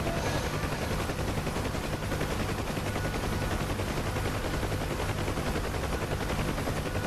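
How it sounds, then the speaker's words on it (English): Ground fire hits a Huey helicopter in the DCS flight sim, rapid sustained gunfire crackling over the steady droning beat of the rotor and engine, loud and continuous throughout. "Taking ground fire."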